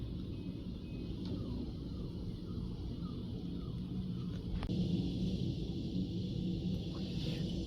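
Low, steady rumbling wind noise from a storm outside fills the clip, a constant broadband roar with slight swells, heard from indoors with no voices.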